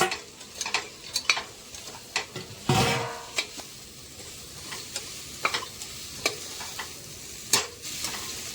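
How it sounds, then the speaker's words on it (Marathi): Cauliflower, peas, beans and carrots fry in a spiced pan for vegetable khichdi, a low sizzle under repeated clinks and scrapes of a spoon stirring against the pan, close and fairly quiet, with no speech. "आता याच्यात आपण व्हेजिटेबल्स टाकूया सगळे. फ्लावर, वाटाणा, बीन्स, गाजर सगळं एकत्र टाकून मिक्स करून घेऊया छान असं."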